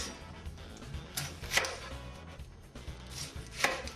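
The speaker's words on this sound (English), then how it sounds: "I'll cut up some onions" A knife chops onions on a cutting board, a handful of crisp, irregular strikes spaced across a few seconds, close and moderately quiet, with the sharpest knocks near the middle and end.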